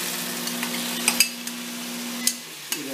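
Chopped tomato goes into a pan of frying chipotle chicken filling, giving a soft steady sizzle with a few sharp stirring clicks and scrapes, fairly close and with no talk.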